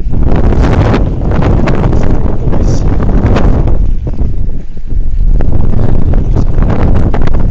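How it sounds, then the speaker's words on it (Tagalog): Heavy wind at sea during solo fishing roars loudly and steadily against the microphone, easing briefly midway before surging again. "Patok ako ng hangin."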